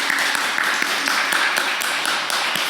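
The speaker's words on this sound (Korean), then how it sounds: "우리 박수로 환영하겠습니다" A church congregation applauds to welcome a visiting mother at a Sunday service, a dense, steady round of clapping from many hands that fills the room for the whole stretch.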